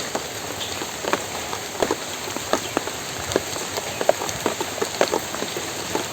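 Rain falls steadily on a rural village during a rainy day, a dense even hiss with scattered louder drops pattering on nearby surfaces, heard close with no voices.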